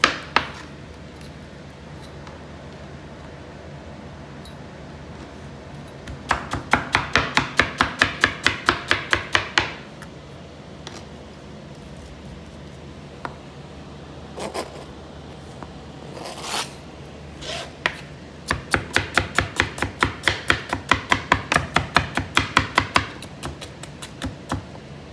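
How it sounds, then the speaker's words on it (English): A knife cuts a peeled potato into very thin slices on a board, producing two long runs of fast, even chopping taps with a quiet pause between them and a few scattered knocks. "cut the peeled potato into very thin slices"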